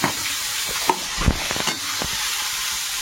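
Salted, turmeric-coated shrimp hit hot oil tempered with five-spice, crushed garlic and bay leaf, giving a close, continuous sizzle broken by a few sharp crackles and stirring knocks, with no voice.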